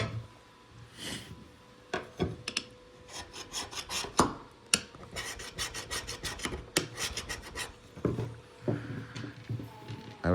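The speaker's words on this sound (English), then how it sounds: "I was able to scratch this Rust-Oleum bed liner." A hard point scratches and gouges Rust-Oleum bed liner paint coating in irregular rasping strokes, some quick and clustered, others isolated, close and moderately loud.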